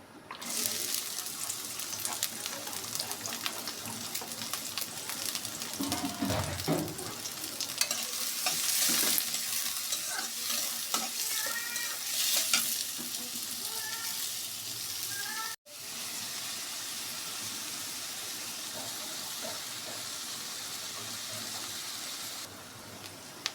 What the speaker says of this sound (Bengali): তেলের মধ্যে দিয়ে দিব এই যে এখানে আমি পেঁয়াজ, রসুন, কাঁচামরিচ কুচি কুচি করে কেটে নিয়েছি।